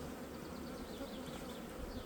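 Honey bees buzz steadily at a hive while a new box is fitted on top, a dense, continuous insect drone holding close and even throughout with no voices over it.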